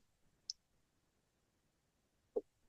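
Computer mouse clicking a save button, two quiet, isolated clicks about two seconds apart in an otherwise near-silent room.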